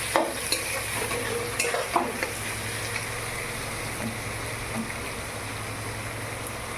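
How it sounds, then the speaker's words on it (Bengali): Onions fry in a pan with salt and turmeric while being stirred, making a steady, close sizzle marked by scraping spoon strokes early on. "পেঁয়াজটাকে আমি ভেজে নেব"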